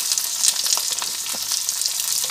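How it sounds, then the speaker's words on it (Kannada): Capsicum, tomato and onion sizzle in hot oil as a tempering for broken wheat bisibelebath, a loud, steady crackling fry with occasional stirring clicks. "ನಂತರ ನಾನು ಕ್ಯಾಪ್ಸಿಕಮ್ ಎಲ್ಲ ಕುದಿಯೋಕೆ ಹಾಕ್ತೀನಿ ಒಗ್ಗರಣೆ ಎಲ್ಲ ಹಾಕ್ತಾ ಇದ್ದೀನಿ"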